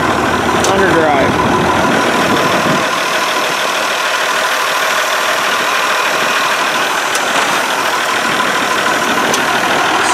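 An Oliver tractor engine with Hydra Power shift runs downhill in underdrive, a steady close mechanical drone with a faint knock that continues throughout the clip.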